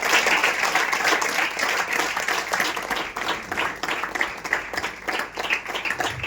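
A church congregation at a youth meeting claps in praise, loud and steady, with many hands blending into dense, continuous applause for several seconds.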